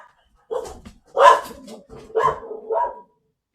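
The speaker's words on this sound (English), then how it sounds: "dogs are barking" Several dogs bark in bursts, four or five clustered, fairly close woofs spread over a few seconds with short gaps of quiet between them.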